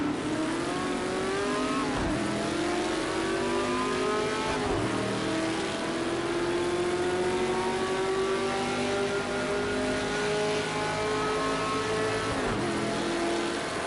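A race car in a Le Mans racing video game accelerates down the Mulsanne straight, its engine note climbing steadily through long gear pulls with sharp drops at each upshift, loud and continuous throughout.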